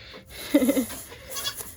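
A goat in its pen at milking time gives a short bleat, mid-loud and close, over quiet barn background with no talking.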